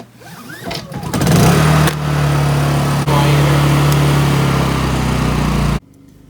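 A Honda EU2000i portable generator running as backup power for a koi pond heater starts up with a sputter, then settles into a loud, steady buzzing drone close by before abruptly cutting off.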